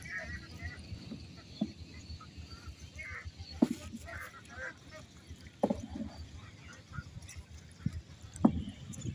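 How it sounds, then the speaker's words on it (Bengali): A small boat is rowed around a Belgian duck farm on water, with sparse knocks and splashes from the oars as ducks and geese honk and quack now and then, under ongoing nearby talk. "কিন্তু আমরা নৌকায় খামারটা একটু ঘুরে আসতেছি"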